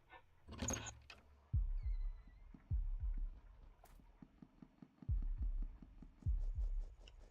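A heartbeat sound plays in a room of a video game: low, heavy thumps come in spaced pairs, repeating several times, with a brief noise burst near the start.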